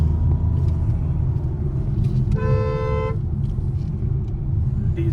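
Kia Seltos 2026 diesel automatic car driving, a steady low road and engine rumble throughout, with a brief horn toot in the middle.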